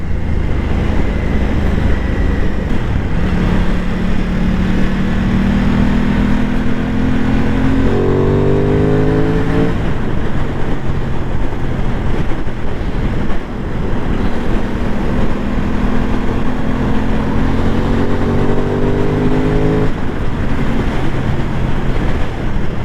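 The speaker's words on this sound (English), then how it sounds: "the induction noise is amazing sound. Absolutely brilliant sound, this induction noise." An Aprilia Tuono 660 is ridden under throttle, its engine rising in pitch through two long pulls with gear changes between them, heard over heavy wind rush that nearly fills the sound, with no talking.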